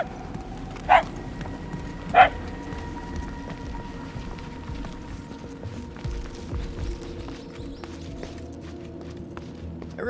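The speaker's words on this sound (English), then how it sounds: "If you're trying to follow the barks" Two short, sharp dog barks about a second apart early on, then a quiet ambient bed with faint patter, from the Marvel's Guardians of the Galaxy video game.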